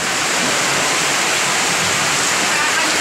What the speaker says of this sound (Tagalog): Sabag-sabag na ulan